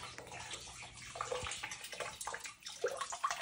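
Water gushing and splashing as a sump pump hose drains after its valve is turned off, a continuous rushing flow with small bubbling bursts, close and fairly loud.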